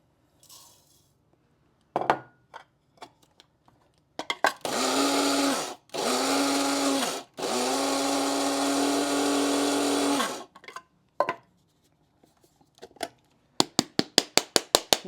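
An electric grinder processes homemade citrus salt in loud, whirring bursts of several seconds each, separated by short pauses, with sharp clinks and rattles of the jar and lid before and after.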